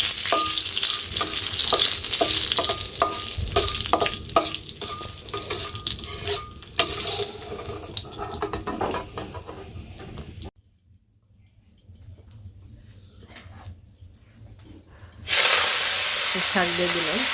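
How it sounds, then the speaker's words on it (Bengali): Dried chillies frying with salt in a hot wok, a loud continuous sizzle with crackles and stirring scrapes that cuts out abruptly midway, leaving near silence for a few seconds before the sizzling returns just as strongly. "লবণ দিয়ে দিলে শুকনো মরিচটা কষতে থাকে।"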